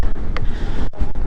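Strong coastal wind buffets a microphone by the sea in loud, gusty bursts, a dense roaring rush with brief dropouts, no voices heard.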